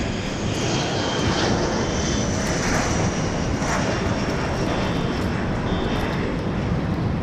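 A JSX jet airliner at Dallas Love Field on a rainy day, its engines giving a steady, loud broadband roar that holds evenly throughout with no voices.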